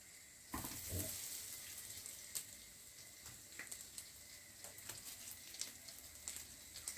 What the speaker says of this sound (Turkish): patlıcanlarımızı arkalı yüzlü kızarttık